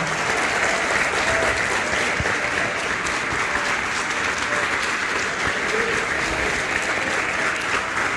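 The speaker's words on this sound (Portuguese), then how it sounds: "pode aplaudir o Senhor" A church congregation at an evening service applauds, producing a sustained, even roar of many hands clapping at once, loud and unbroken for about eight seconds.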